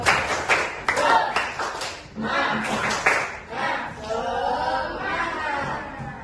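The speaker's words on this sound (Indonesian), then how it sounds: "mari kita tepuk semangat dulu" A class group claps together in a rhythmic spirit-clap chant pattern, with voices calling along between and over the clapping bursts.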